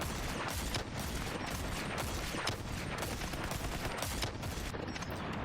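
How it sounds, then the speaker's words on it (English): Rapid video game gunfire, dense bursts of shots overlapping in quick succession, loud and sustained across the whole stretch. "They're firing on us."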